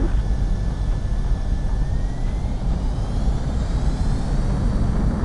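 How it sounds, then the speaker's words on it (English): Steady roaring jet engine of a fighter aircraft on its takeoff run in a combat flight video game, a loud continuous low rumble with a faint rising whine above it, no voices. "Mobius 1, you were cleared for takeoff."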